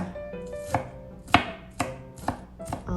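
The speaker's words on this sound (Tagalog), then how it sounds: "So you just need to mince the garlic" A knife minces fresh garlic on a cutting board in a home kitchen: close, crisp chops in an uneven rhythm, about half a dozen sharp knocks with brief pauses, no voices.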